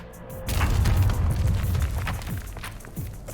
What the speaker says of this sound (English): Reports of gunfire and explosions.